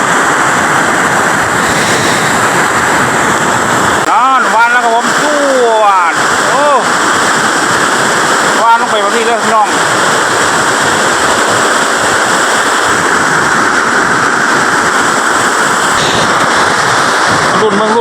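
Water rushing through the seven opened spillway gates of the Rasi Salai Dam on the Mun River, a steady loud roar throughout, with people talking briefly over it partway through.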